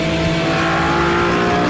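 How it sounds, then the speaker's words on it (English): A BMW E46 M3 CSL engine pulls hard under acceleration, a loud, steady, close-up mechanical roar with no talk over it. "the acceleration is just fabulously savage"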